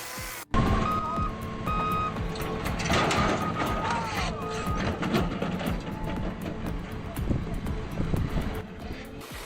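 A Caterpillar D7R bulldozer works at land clearing and grading, with a loud steady diesel engine drone, clanking tracks and a short repeating reversing beep, with wind noise and a voice talking over it.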